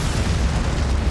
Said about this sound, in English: Then, a second explosion ripped through the site.